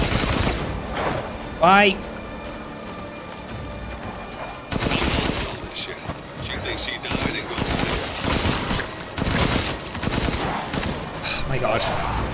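Rapid video game gunfire crackles in bursts and sustained automatic volleys, mixed with explosions and game effects, while a player talks over the action.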